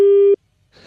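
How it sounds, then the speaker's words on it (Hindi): A telephone busy tone after the line is cut, one steady loud beep of about a third of a second, then silence before faint noise creeps back in. "वो टेलीफोन लाइन कट गई थी मेरे ख्याल से"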